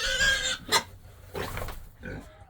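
Pig on a family farm grunting near the microphone at breakfast time, a few short separate grunts and snorts spread across the moment, with no talk over them.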